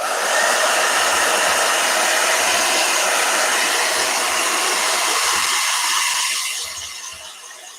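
A blow dryer runs steadily with a loud, broadband whoosh that holds for most of the stretch, then quiets and drops off near the end.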